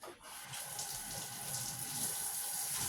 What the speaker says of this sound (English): Gonna rinse these off and cut them up.